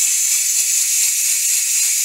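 Steady loud hiss of steam escaping from a pressure cooker during pressure release while making chicken noodle soup, a continuous bright rushing jet with no pauses.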